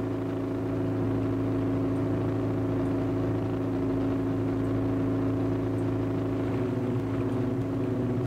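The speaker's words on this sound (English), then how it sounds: "sounds like a speedboat" Speedboat-like motor in the Esail sailing simulator game runs continuously, a steady mid-pitched engine drone with layered harmonics that rises slightly toward the end, with no voices.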